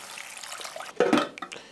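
Water is poured from a container over toasted dried chile peppers to steep them, a short splashing gush that swells and then trickles off, close up and alone.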